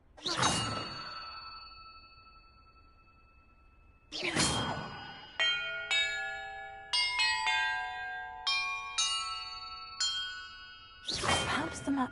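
Church bells ringing in the video game Hogwarts Legacy: several clear, resonant bell strikes with long ringing tails, a few isolated tolls and then a quicker run of chimes, loud and close, with no talk.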